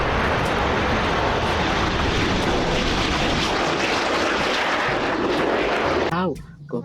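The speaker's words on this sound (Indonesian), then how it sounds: "Nah, keluarlah pesawat jet." A toy jet plane gives off a loud, steady roaring jet-engine rush that holds for about six seconds, then cuts off abruptly into a brief quieter moment.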